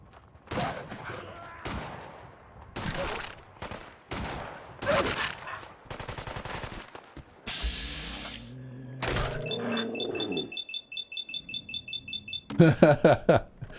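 Gunfire erupts in Fallout 4 as a settlement provisioner comes under attack: a string of sharp, loud shots separated by short gaps, an electronic alarm-like beeping in the middle, and a rapid close volley at the end.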